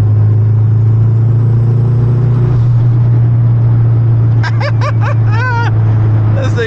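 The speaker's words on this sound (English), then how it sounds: "The turbo sounds fucking sick." A turbocharged Honda K24 engine drones steadily in a moving car, a loud constant low hum from the cabin, with a brief whistling turbo flutter near the end.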